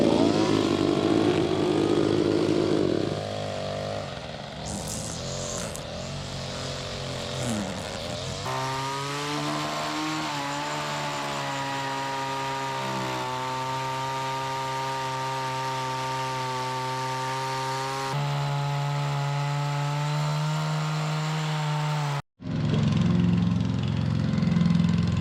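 A Hausprofi 8-inch wire brush head spinning on low revs gives a steady, close motorised drone with shifting tonal whine. The pitch changes now and then, and the sound cuts out briefly near the end before resuming. No one speaks.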